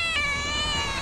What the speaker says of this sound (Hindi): ये बिल्ली के रोने की आवाज कहां से आ रही है?